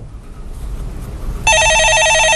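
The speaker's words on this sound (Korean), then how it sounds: "예, 전화 받아보겠습니다" An incoming call rings on a telephone in a Korean stock-market phone-in broadcast studio, starting abruptly after a quiet moment and sounding as a loud, rapidly trilling electronic ring that continues steadily to the end.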